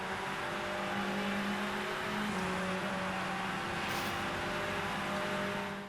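A McLaren 720S GT3 race car engine in the video game Rennsport drones steadily at high revs, shifting pitch slightly with a brief whoosh near the end, sounding thin and synthetic with no voices.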